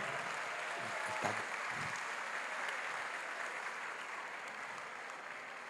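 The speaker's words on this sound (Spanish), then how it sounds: "Dense un aplauso ustedes." Audience applause fills a hall: a steady, dense patter of many hands clapping, a slightly stronger burst near the start, then continuing evenly, with a faint voice briefly audible early on.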